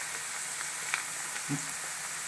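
Ivy gourd (kovakka) frying in hot oil, giving a steady soft sizzle throughout with a few brief stirring clicks and a low thump near the end, close and fairly quiet, no talking.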